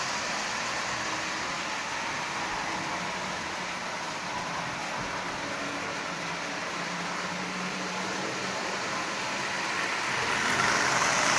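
A Marx 400 toy train built from junk parts, with a double reduction motor, runs smoothly with a steady, even mechanical whir throughout, growing slightly louder near the end.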